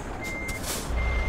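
Reversing beeps from a truck in a driving video game sound in a short run of steady, evenly spaced electronic tones over low engine hum, with a faint hiss near the end.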